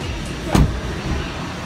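The hood release of a Volkswagen Polo car is pulled, giving one short, loud mechanical clunk in the middle of a quiet stretch.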